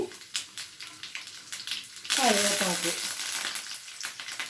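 Chana dal, urad dal, mustard seeds and dried red chillies drop into hot oil for tempering, bursting into a loud, steady sizzle halfway through after quieter kitchen clatter.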